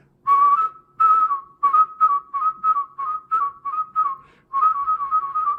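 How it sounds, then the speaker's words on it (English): A bright whistle in short bursts, each one wobbling rapidly in pitch with a warbling flutter, then a longer warbled run at the end; close and alone. "This is what warbling is, and it's made by changing your oral capacity."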